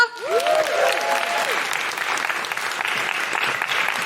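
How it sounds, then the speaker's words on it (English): A comedy show audience gives Gina a big round of applause, loud dense clapping that holds steady for the whole stretch, with a brief whoop or tonal cheer rising early on. "Big round of applause for Gina."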